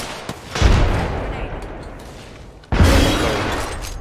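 Gunfire in the video game Apex Legends, two loud broadband bursts with booming low end, the second after a short gap, each trailing into a noisy decay.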